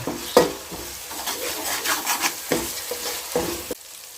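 Ginger garlic paste sautéing in a pan for a village-style country chicken curry, with a steady sizzle and repeated scraping stir strokes. A sharp scrape opens the clip and more strokes follow near 2.5 and 3.4 seconds before the sound drops away.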